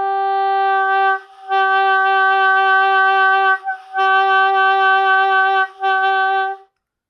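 Saxophone holding a sustained note with exaggerated vibrato that only bends downward, sounding flat and saggy, in several long phrases split by short breaths, played alone and close.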